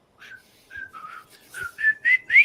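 Someone whistles the marching tune from The Bridge on the River Kwai, a war film, in short clear phrases that grow louder and rise in pitch toward the end.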